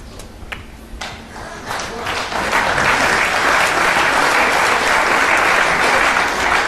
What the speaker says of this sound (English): Round of applause from this very, very knowledgeable Doncaster crowd